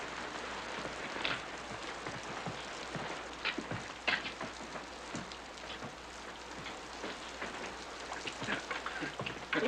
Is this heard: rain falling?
yes